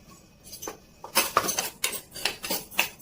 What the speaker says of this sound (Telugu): ఈ ఆవాలను కూడా వేసి వేయించుకుందామండి.